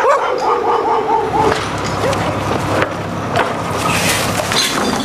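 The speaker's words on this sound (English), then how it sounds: "that worldwide dustman hazard, the neighborhood dog" A neighbourhood dog barks and yips in a short series near the start, then quieter whimpers and yelps follow over a steady street background of rumble and clatter.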